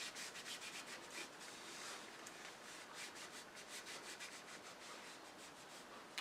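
Steady close rubbing of finish into the open grain of an ash wood bowl, a soft continuous scuffing with faint rhythmic strokes and no voices.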